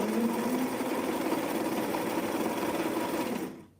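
Sewing machine set into a sewing cabinet runs at a steady, close, humming whir for several seconds, then stops abruptly.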